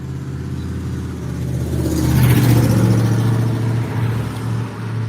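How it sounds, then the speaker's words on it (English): An old 1989 Chevy pickup truck with a carbureted engine drives past at the roadside, its engine hum and tire noise swelling loudly as it nears and then fading away. "Man, that's a 89 Chevy. Pickup truck. Old school."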